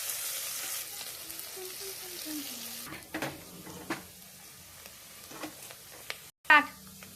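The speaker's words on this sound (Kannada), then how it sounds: "ಅದಕ್ಕೆ ಈರುಳ್ಳಿನ ಚೆನ್ನಾಗಿ ಫ್ರೈ ಮಾಡ್ಕೊಳ್ಳೋದು." Onions fry until golden in hot oil for a mushroom biryani, a steady close sizzle with a few clinks and scrapes of stirring against the pan, and no voices.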